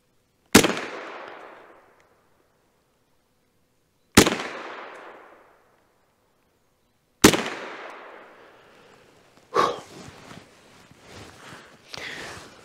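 Three separate loud shots from a Kel-Tec SUB 2000 semi-automatic carbine in 9mm, each a sharp crack with a decaying tail, spaced about three seconds apart, followed by softer clatter and handling noise.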